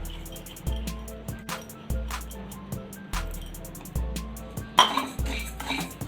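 Moong dal dry-roasted in a pan, with regular scraping strokes of a spoon against the metal pan recurring about every second, close up, alongside dry rattling of the lentils and no speech.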